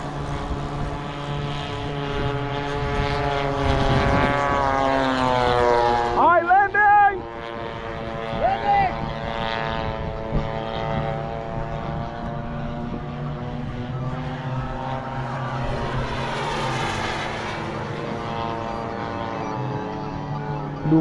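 A radio-controlled propeller warbird makes a pass at a bomber field gathering, its engine drone rising and shifting in pitch as it sweeps by, loud and continuous throughout.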